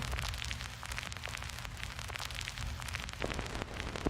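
A turntable needle rides a blank, uncut, shiny new vinyl record side, producing dense, intense crackle and popping that sounds almost like rain or a fire, constant and fairly quiet over a low hum, with no talking.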